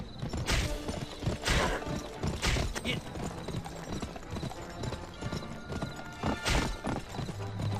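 Horse hooves clip-clopping in the video game Gun, a rhythmic run of hoofbeats with a horse neighing, set against game sound and some background voice.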